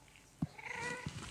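A cat meows in Minecraft Pocket Edition, a brief, faint, tonal meow over quiet background sound.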